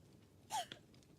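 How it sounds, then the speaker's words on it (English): A sneeze in Kingdom Come: Deliverance II: one short, faint burst with a quick breathy catch just after it, heard alone against a quiet background. "And there's somebody somewhere sneezing or something."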